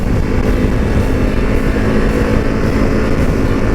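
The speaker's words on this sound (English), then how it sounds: "Let's downshift it in a second, get some revs up here." A Harley-Davidson Pan America adventure motorcycle engine revs steadily after a downshift, around 6,500 RPM, with a constant droning roar close to the microphone and no pauses.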